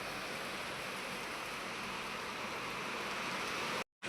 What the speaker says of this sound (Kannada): ಮಳೆ ಬೇರೆ ಜಾಸ್ತಿ ಆಯಿತು